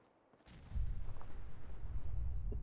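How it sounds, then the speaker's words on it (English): A video game explosion bursts in suddenly after a quiet moment, followed by a sustained heavy low rumble and crackling debris that keep going to the end of the clip. "Now, okay, that explosion was my fault."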